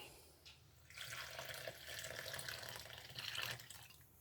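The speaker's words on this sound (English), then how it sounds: "Okay, so let's go ahead and add our water first." Water poured into a dry honey wheat bread and roll mix in a bowl, a steady splashing pour lasting a few seconds, close and fairly loud with no talking.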